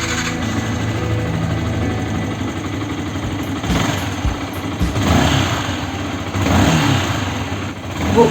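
A Yamaha R15 motorcycle runs after its accelerator cable is replaced, idling close by with a steady mechanical rattle, then blipping through several sharp throttle revs that rise and fall, the last one loudest.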